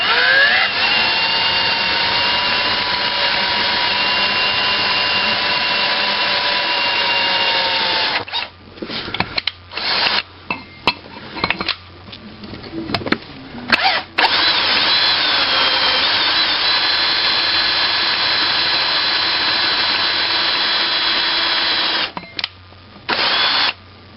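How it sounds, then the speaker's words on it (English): A power drill with a 1/8 drill bit bores rivets out of a Mantua model train motor, a whining tone that runs, stops and restarts in several bursts, loud and close with no talk. "And now we'll begin to drill the rivets out."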